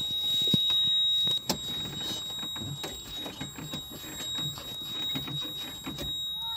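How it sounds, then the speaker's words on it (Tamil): A steady, high-pitched electronic warning beep from a faulty clutch pedal switch on a Mahindra Maxximo drones continuously, with clicks and mechanical rattling underneath at close range. "விட்டாலும் பீப் சவுண்டு வருது மிதித்தாலும் பீப் சவுண்டு கண்டினியூ வந்துகிட்டே இருக்குது"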